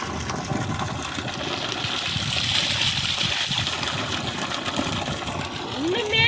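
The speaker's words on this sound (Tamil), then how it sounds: "தண்ணி எடுத்து விட்டாச்சு ஒன்னே கால் டெலிவரி இங்கே ஊற்றிக்கிட்டு இருக்குது" Water gushing steadily from a 1.25-inch delivery pipe fed by a 1700W BLDC borewell pump at a 620-foot bore, a continuous loud rushing splash with someone talking over it throughout.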